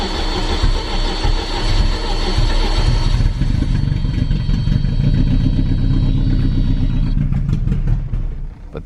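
An engine with a suspected fuel reserve or pump fault runs loud and rough for several seconds, clattering unevenly, then sputters and dies at the end.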